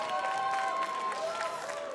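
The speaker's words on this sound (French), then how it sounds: "Allez, vous l'applaudir." An audience applauds at a latte art competition semi-final at Sirha 2019, the steady clapping of the crowd softly filling the room beneath sustained tonal sounds.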